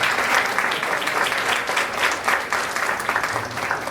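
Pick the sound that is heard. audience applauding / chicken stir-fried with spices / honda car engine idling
audience applauding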